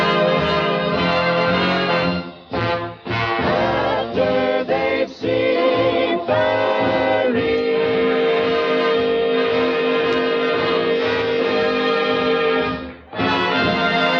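Bells ring loudly and continuously in a restored 1949/50 radio comedy broadcast, a dense clanging peal with brief gaps, alone without voices.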